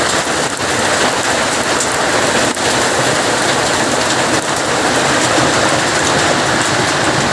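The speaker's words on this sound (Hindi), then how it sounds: "बाहर बारिश में ओले शायद आपको दिखते हैं" Heavy rain mixed with hail pours down outside, heard from indoors as a steady, dense, even hiss that fills the whole clip without pause, with no talking.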